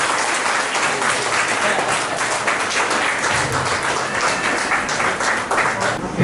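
Heavy, continuous applause from the audience at a Jain scholarship award ceremony as honoured guests are presented with shawls. The clapping stays loud and close throughout, with no talk over it.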